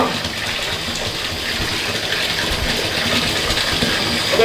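Water gushes steadily into a bathtub being filled for an ice bath. The rushing, splashing flow is loud and close and runs without a break from start to finish, with no talk over it.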